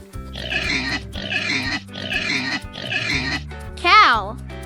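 A pig grunts and oinks nearby in four rhythmic, snorting bursts, followed by a higher squeal at the end, with no voices.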